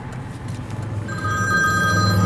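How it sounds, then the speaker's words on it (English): A T-Mobile cell phone rings with a steady electronic ringtone tone that starts about a second in and continues, heard fairly loud over a rumbling background inside a moving car on the highway, with no talking. "As you can see, this phone is ringing now."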